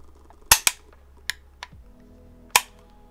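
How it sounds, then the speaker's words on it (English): Dry-fire clicks from an AK rifle: the safety lever snaps off, the trigger clicks, and the safety goes back on, sharp isolated mechanical clacks close by in a quiet room. "pull the gun up, safety off, trigger, safety back on"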